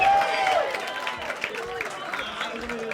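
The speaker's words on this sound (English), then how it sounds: "Start clapping, start cheering" Comedy club audience at Hot Water Comedy Club clapping and cheering to welcome comedian Danny Davis, a busy mix of applause, whoops and shouts, with a voice rising above the crowd noise.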